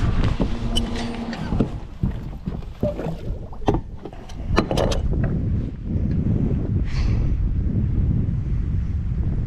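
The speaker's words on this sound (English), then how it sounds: "I think I'm gonna put my trolling motor down and go through it backwards." A trolling motor drives a boat slowly backward through a shallow backwater, a steady low churn of water and motor under wind buffeting, with scattered knocks and splashes early on and no talk.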